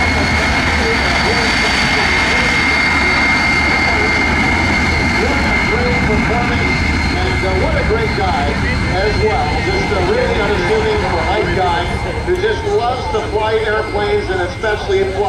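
A MiG-17 jet fighter flying at the Aero Gatineau airshow sends out a loud, continuous jet roar with shifting tones as it passes, a commentator's voice carrying over it.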